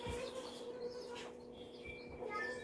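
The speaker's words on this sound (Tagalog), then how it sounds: "Mga birds gawas." Birds chirp and tweet outdoors, with light repeated calls rising over a steady background hum; the calls are faint to moderate and come in short bursts.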